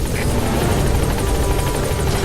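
Helicopter in the Metal Gear Solid V video game, a steady loud rotor thump and engine drone that stays constant throughout with no pauses.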